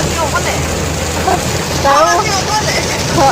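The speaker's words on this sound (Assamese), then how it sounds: "দেখিছে কিমান ডাঙৰ বৰষুণ দিছে" Heavy rain drumming on a car during a drive, a dense steady wash of noise with a low engine rumble, while people talk inside the car.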